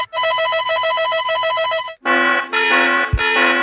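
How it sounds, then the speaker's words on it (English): A loud emergency alert ringtone alarm repeats a bright pulsing electronic tone pattern for about two seconds, then switches to a second harsher alert tone with rapid repeated beeps, with no talking. "That's a fucking ringtone alarm."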